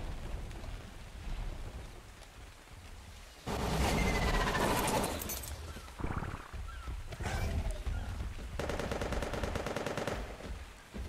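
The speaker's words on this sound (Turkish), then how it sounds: "Havai fişek." Fireworks burst in the video game Ark: Survival Evolved, heard as loud, rapid crackling volleys in several sustained bursts separated by quieter gaps.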